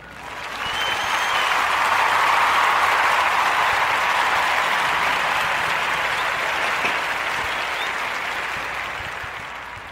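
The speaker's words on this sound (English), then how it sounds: "Join me in giving her a Warm Narrative Podcast round of applause" A podcast audience gives a warm round of applause, a dense, steady wash of many hands clapping that swells in quickly, holds for several seconds, then tapers slightly at the end, with no voices over it.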